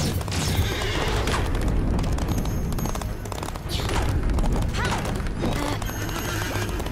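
Horses in the video game Toy Box Takeover whinny loudly several times over a constant rush of galloping hooves and clattering, with booming thuds in the background.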